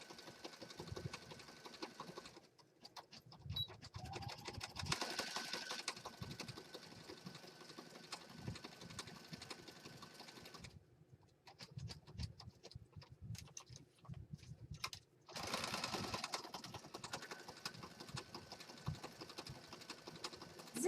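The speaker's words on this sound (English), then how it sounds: "Zigzag stitching away." A sewing machine zigzag-stitches a junk journal cover, a quiet, fast mechanical whirr running in bursts of several seconds separated by short pauses, close up with no voices.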